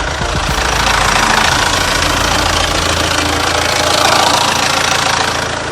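A SsangYong New Korando C diesel engine idles steadily with a rough, knocking clatter, loud and close, running continuously without pauses.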